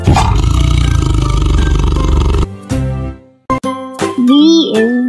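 A tiger gives a roar against a loud backing of music and chimes, followed after brief gaps by bright jingling tones and a rising, wavering cartoon-like cry near the end.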